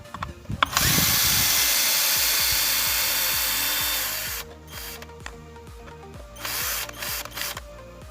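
INGCO cordless drill driving a screw back out, a steady loud whir lasting several seconds with a rising ratcheting rattle, then stopping and followed by short bursts and clicks.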